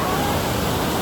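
A waterfall roars as a steady, loud broadband rush of moving water, continuous and close throughout with no gaps.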